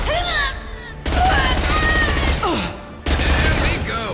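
High-impact weapon shots in the Mass Effect 2 shooter, three loud bursts of heavy gunfire separated by brief gaps, laced with whooshing and sliding tones, and mixed with shouted combat voices.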